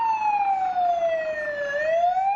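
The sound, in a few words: siren sounding on a film set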